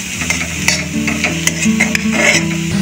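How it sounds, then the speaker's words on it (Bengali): Vegetables are stirred and sautéed in butter in a pan for a soup, with a steady sizzle and repeated scraping and clinking strokes of the spoon, close and clear, no voices. "বাটারে সামান্য একটু নেড়ে চেড়ে চিকেন স্টকটা দিয়ে দেবো"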